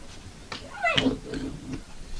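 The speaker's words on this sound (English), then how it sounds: "No, they're not our cats. We can't bring them inside." A cat meows outdoors, a few drawn-out rising and falling cries in quick succession, fairly close and clear with no talking over them.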